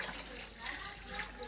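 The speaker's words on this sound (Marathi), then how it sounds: "हॅलो गाईज, पाहू शकता चिकन धुवायचं काम चालू आहे" Running tap water splashing over about 1.5 kg of raw chicken being washed in a home kitchen, a steady faint hiss and gush with someone talking over it.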